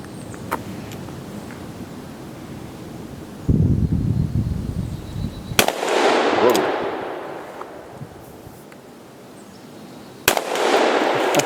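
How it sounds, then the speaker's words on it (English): Several sharp .44 Magnum revolver shots ring out outdoors, each a loud sudden crack with a lingering boom and echo, spaced a few seconds apart amid wind noise. "So 44 mag, let's just shoot a little bit."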